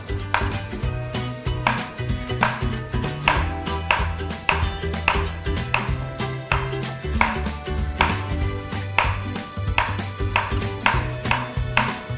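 A knife chops salad cucumber on a board in a steady, rhythmic series of close, crisp strikes, with music playing underneath.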